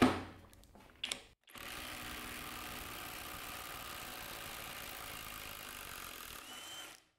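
A Skil 1/2 inch cordless impact wrench running with its high-torque mode switched off, giving a brief burst, a pause, then a steady mechanical whir and rattle lasting several seconds before cutting out, fairly quiet and without speech.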